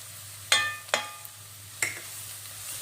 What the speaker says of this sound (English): It's very important to keep stirring at this moment in time to stop the spices from burning